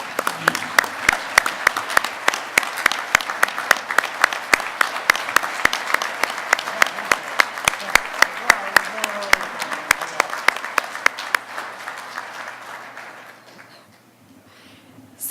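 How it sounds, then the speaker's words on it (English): A room of colleagues applauds a departing staff member at a workplace department update, steady dense clapping for about eleven seconds before tapering off into quiet. "Please join me in a round of applause for Nate"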